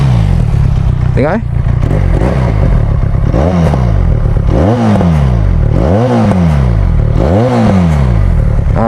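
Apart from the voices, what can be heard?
Benelli Leoncino 500 motorcycle engine revving, aftermarket exhaust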